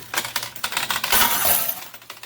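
Quarters and dollar coins clattering and dropping in a coin pusher arcade machine, a rapid series of bright metallic clinks and jingles with a denser cascade of tumbling coins midway, close and loud without talking.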